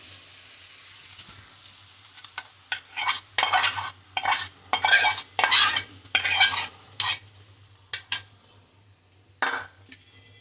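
Batter poured into hot oil in a frying pan for a children's tiffin snack, heard as a run of close, loud bursts of hissing sizzle and scraping with pauses between, with light clinks of utensils and no talking.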